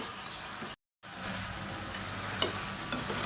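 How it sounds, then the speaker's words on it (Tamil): Onions, vegetables and sliced tomatoes sauté in hot oil for biryani, giving a steady close sizzle with a brief break and a few sharp stirring clinks. "சேர்த்துட்டு இது எல்லாத்தையுமே நல்லா வதக்கிக்கலாம்."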